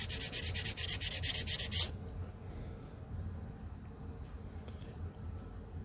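A Rabid Models edge shaper tool sands a bevel into a model edge with rapid rhythmic rasping strokes for about two seconds, close and loud, then only quiet handling noise follows.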